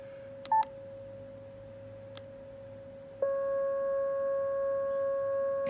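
Steady sine-like tone from a Yaesu FT-891 radio while its reference oscillator is fine-tuned, starting after a few brief beeps and clicks, then holding constant with a slight wavering pitch.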